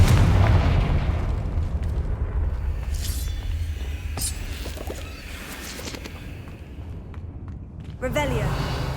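Confringo spell blasts in the game Hogwarts Legacy, with several short booming bursts scattered through the clip over a low rumbling background and faint game sounds.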